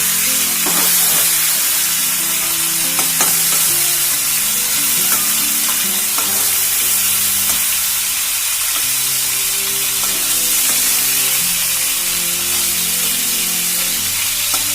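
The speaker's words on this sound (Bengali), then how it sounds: "এর থেকে বেশি কিন্তু আমি চিংড়ি মাছ ভাজবো না" Large prawns frying in hot oil in a home kitchen, a steady loud sizzle and hiss with occasional stirring clinks throughout.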